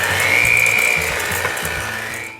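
A mixer whisks sticky snickerdoodle cookie dough with corn syrup, a steady close motorized whir with a rising whine, loud and alone.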